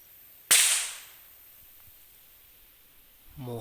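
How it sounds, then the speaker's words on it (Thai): A single sharp gunshot cracks out in a forest during a wild boar hunt, fairly close, then decays into quiet ambience before a faint voice begins at the end. "หมูเขายิงเลยนะท่านผู้ชม"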